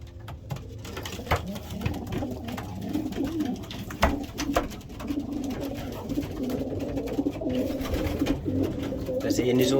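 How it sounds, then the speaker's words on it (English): Racing pigeons in a loft coo steadily at close range, a continuous murmur of bird calls with light fluttering and scuffling, while someone talks over them. "That one is a bird that I bred directly off Mr. Smith's birds."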